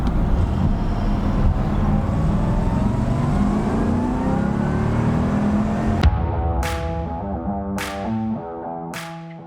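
A 1972 Corvette convertible with its base engine, finished in Pewter, revs loudly and steadily up close for about six seconds, then drops to a rough idle broken by sharp clicks and a few short blips.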